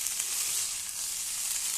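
Banana flower curry frying in a pan over low heat, giving a steady, even sizzle that runs unbroken and close throughout, with no talking.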